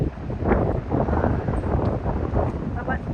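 Strong wind buffets the microphone on the rocky shore of Tagami-iwa in Kita Nagano Coast National Park, a loud, continuous rumbling gust with possible surf beneath it.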